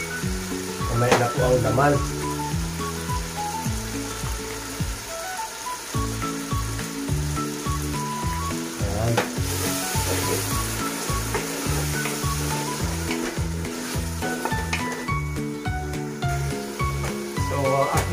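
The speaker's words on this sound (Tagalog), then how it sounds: "at saka ko po ilalagay itong sabaw ng sardinas" Sardine broth poured into a hot frying pan hisses and sizzles steadily beneath loud background music, with a brief spoken line over it.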